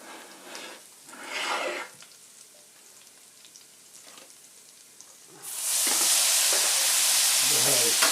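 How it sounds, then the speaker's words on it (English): Loud, steady hissing sizzle bursts up as drained pasta hits a hot pan with bacon, following quieter kitchen sounds and brief clatter. "I'm going to start draining the pasta and adding it right to this pan. So get ready for a sizzle."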